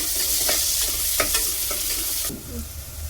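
Long-sliced onions frying in hot oil for Ambur-style mutton biryani, a loud, continuous sizzle broken by scraping stirs of a spoon through the pan before the hiss drops down near the end.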